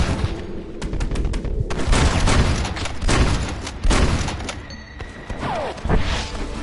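Dense volleys of gunfire from soldiers in the Western video game Red Dead Redemption, rapid overlapping shots and booms crackling continuously at close range with brief lulls between bursts.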